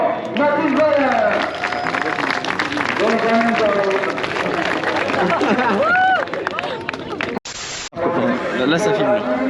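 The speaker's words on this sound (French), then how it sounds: "on applaudit très très fort Mathis Valère" Outdoor crowd at a motocross event applauding a rider: clapping and cheering mixed with crowd babble and voices, followed by a short break and more noise.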